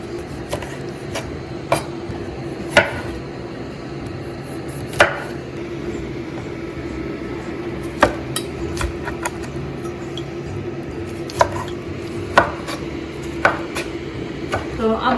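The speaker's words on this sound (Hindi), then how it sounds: "यहाँ पे हमारे पास तकरीबन 2 लार्ज हमारे पास टमाटर हैं, उनको भी इसी तरह आप डाइस कर लें" A knife dices two large tomatoes on a cutting board, giving scattered sharp taps at an uneven pace over a low background hum, close and moderately loud, with a faint voice in the background.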